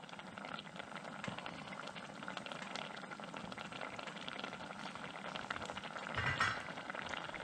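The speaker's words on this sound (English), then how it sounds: "So I'm kind of bringing this up to a slight boil." Mushroom soup for Hungarian mushroom soup bubbles gently at a slight boil in a pot, a soft continuous fizzing and popping, close and quiet with no talking.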